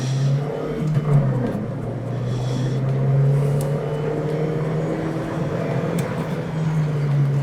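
Car driven through a trail braking demonstration, a steady engine note holding throughout with slight shifts in pitch as the driver lifts off and turns, heard from inside the car with no talk.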